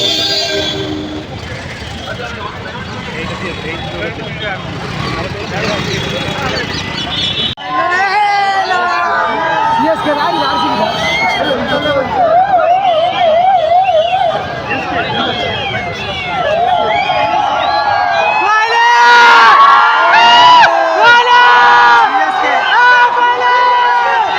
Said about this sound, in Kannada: 6 ಗಂಟೆ ಆಗ್ತಾ ಇದ್ದಂಗೆ ಕ್ರೌಡ್ ಎಷ್ಟು ಜಾಸ್ತಿ ಆಗಿದೆ ನೋಡ್ಬೋದಾಗಿರುತ್ತೆ.